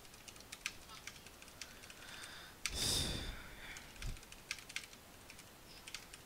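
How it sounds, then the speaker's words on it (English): Soft, scattered computer keyboard keystrokes clicking irregularly at low volume, with a louder breathy sigh or rustle breaking in midway. "I was typing."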